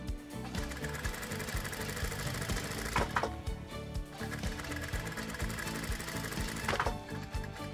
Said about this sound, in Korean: 둔탁하지만 나름의 장단에 맞춰 돌아가는 재봉틀 소리마저도 정겹게 느껴지는 교동시장입니다.